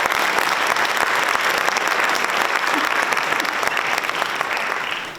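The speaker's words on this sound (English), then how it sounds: "Nice round of applause to not only our varsity coaches, but all of our coaches in our programs" A crowd at a high school varsity jacket night gives the coaches a sustained round of applause, a dense, even roar of clapping that holds steady and fades slightly at the end.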